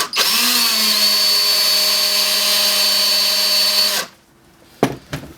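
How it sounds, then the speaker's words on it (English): A power drill bores a hole in plastic while making a hitch adapter for a model trailer, holding a loud, steady high whine for about four seconds before it cuts off and a couple of quiet clicks follow. "I'll drill another hole right below it"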